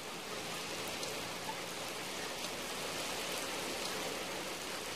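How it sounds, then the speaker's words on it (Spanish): Heavy rain with hail pouring down in Bogotá, a dense, steady hiss of rainfall without a break, loud and continuous with no voices. "Hoy llovió intensamente, cayó granizo, hubo inundaciones en 4 sectores de la ciudad."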